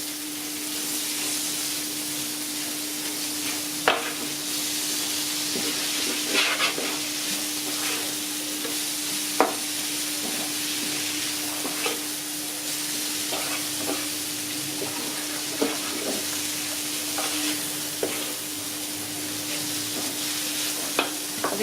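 Vegetables with garlic frying in a pan, a steady loud sizzle broken by repeated scraping taps of a spoon as everything is stirred, no talking.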